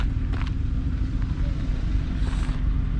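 A race-tuned car engine rumbles loud and close at a steady, deep throb, with brief higher revving swells breaking through.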